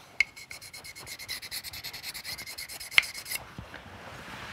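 Knife blade honed on a wet honing stone, a rapid run of rhythmic rasping strokes, around twenty even back-and-forth scrapes, with two sharper clicks and a wet rinse trailing at the end.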